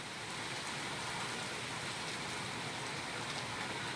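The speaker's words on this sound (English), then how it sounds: "I love rainy days, but look at the clouds up there." Steady rain falls outdoors as a hurricane approaches, a dense, even hiss with no break across the clip and no voices.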